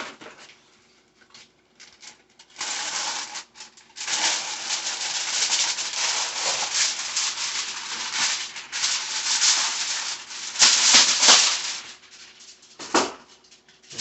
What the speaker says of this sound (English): And we are going to cover it with aluminum foil.